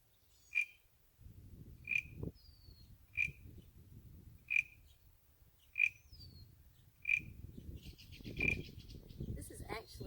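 A small carved monkey pod wood frog instrument from Vietnam, scraped to imitate the western chorus frog, gives seven sharp, evenly spaced rasping clicks over soft background rumble and faint voices.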